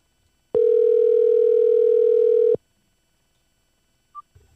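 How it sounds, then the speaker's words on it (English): A phone tone sounds over a speakerphone, one steady two-second electronic tone that stops abruptly, followed by a faint blip and near silence. "I hear the ringing."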